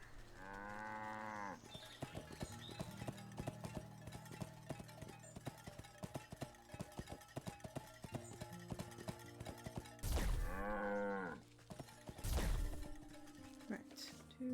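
A cow in the video game Wytchwood gives two drawn-out moos, one at the start and another near the end, over a quiet tonal game score with a few soft knocks.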